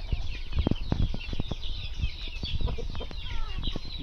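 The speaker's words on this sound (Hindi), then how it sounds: "मुर्गियों को हम बाहर छोड़ देते हैं।" A flock of Aseel chickens clucks and murmurs continuously nearby, with scattered sharper clucks and scratching over a busy farmyard background.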